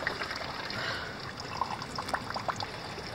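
Krasnaya Polyana narzan mineral spring water trickling and bubbling in a steady close flow, with small splashy drips on top.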